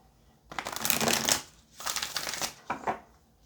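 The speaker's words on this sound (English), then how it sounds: "Let's get one more shuffle and then get into it." A deck of tarot cards is riffled in three quick bursts of crisp, papery fluttering, close to the mic, each burst followed by a short pause.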